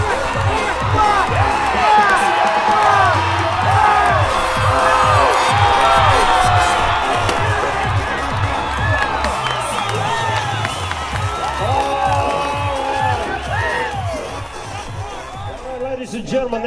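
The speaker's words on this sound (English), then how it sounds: "Stand up and give him your applause." A rodeo crowd in the Northern Territory cheers, whoops and applauds a cowboy in a loud, continuous roar of many voices, with an amplified announcer speaking over the noise.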